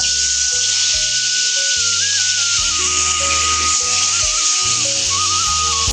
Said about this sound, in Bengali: আমার ফ্রাই প্যানের তেল গরম হয়ে গেছে, এখন আমি মাছটা সাইডে দিব